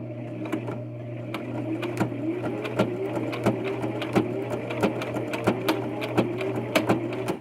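Sewing machine running steadily while stitching a zigzag seam on a fabric pouch, a continuous mechanical hum with rapid rhythmic needle clicks throughout, close and clear with no talking.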